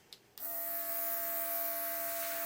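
A small electric mini blower starts abruptly and runs steadily with a close, continuous whirring hum, pushing blue acrylic paint across a surface during paint pouring.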